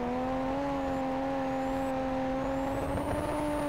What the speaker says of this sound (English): Hitting the brake really was not the best idea, it seems.